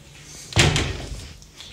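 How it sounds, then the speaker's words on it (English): A single door is pushed shut with a sharp slam partway through, followed by a short fading rattle in an otherwise quiet indoor room. "I'm just gonna close the door now."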